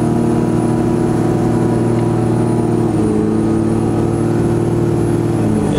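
A red 12V Cummins diesel pickup engine drones loud and steady while driving down the road, a continuous low rumble with a slight shift in pitch midway.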